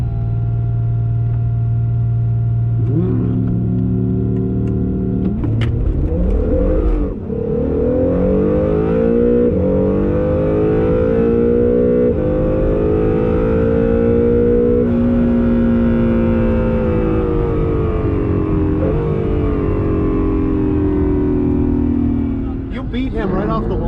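An Acura NSX launches hard in a drag race and accelerates, its engine note climbing steadily and loudly through the run with a brief dip partway, while voices murmur underneath.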